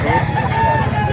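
A rooster's crow rises over the bustle of a live chicken market in Lipa, brief and close, with a dense low hum of clucking birds and crowd noise underneath.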